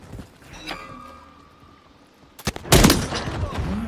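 Gunfire in the video game Modern Warfare 3: a couple of sharp shots, then a loud burst of rapid fire near the end, close and punchy with game ambience between them.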